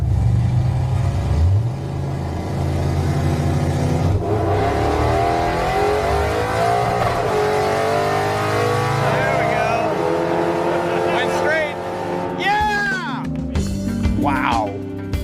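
A drag race car running on nitrous at an NHRA drag racing event roars loudly through a full hard acceleration run, its engine pitch climbing through the gears, with people talking and shouting over the noise.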